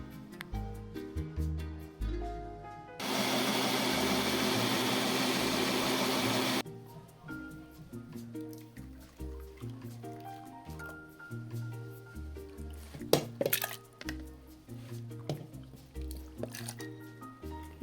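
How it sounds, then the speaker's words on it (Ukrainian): A jug blender roars loudly for several seconds blending plums, a steady whirring burst over background music, then cuts off. "У мене дуже гарний, потужний блендер із чашею, то я переб'ю в ньому."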